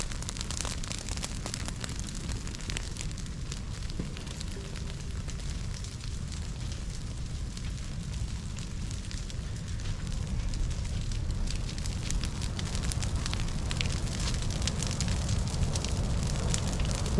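A brush pile in a prescribed burn roars and crackles in a steady, dense blaze heard close by, with light wind rushing across it throughout.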